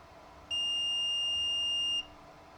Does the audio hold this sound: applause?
no